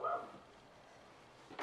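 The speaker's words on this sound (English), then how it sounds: "So now the neighbour's dog's out." A neighbour's dog barks outdoors at a distance, a faint burst at the start and another at the end, with quiet room background between and no talking.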